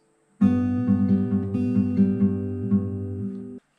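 An acoustic guitar is fingerpicked on the sixth, third and second strings, a steady alternating bass-and-treble pattern from a song, notes ringing over one another for about three seconds, close and without talk.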